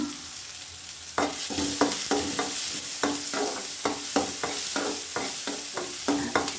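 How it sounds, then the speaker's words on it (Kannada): Chopped onion frying in a pan for a potato and brinjal sabzi, a steady sizzle broken by regular scraping stirs about every half second, close and fairly loud, with no talking. "ಇವಾಗ ನಾನು ಚೆನ್ನಾಗಿದ್ದು ಬ್ರೌನ್ ಆಗೋವರೆಗೂ ನಾನಿದು ಫ್ರೈ ಮಾಡ್ಕೊಳ್ಳೋಣ."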